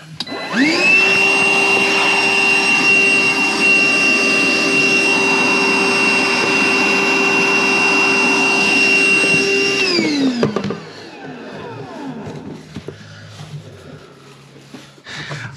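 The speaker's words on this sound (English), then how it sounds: "So let's get the wet vac ready, because I think it's just going to go." Wet vac running at a loud, steady whine for about ten seconds, then winding down and cutting off, leaving quieter clattering and handling sounds on a plumbing job.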